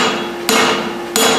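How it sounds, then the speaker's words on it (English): A farrier's hammer striking a horseshoe at a winter clinic demonstration, two sharp ringing metallic blows spaced under a second apart, loud and close with no talk. "So we'll do a quick one with a hammer again."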